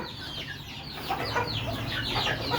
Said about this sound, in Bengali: এগুলো হচ্ছে সবগুলো আমার ডিম পাড়া রানি মুরগি